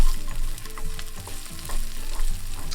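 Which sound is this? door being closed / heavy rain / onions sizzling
onions sizzling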